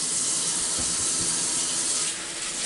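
Tap water runs steadily into a sink during handwashing with soap, a continuous bright hissing splash with no talking.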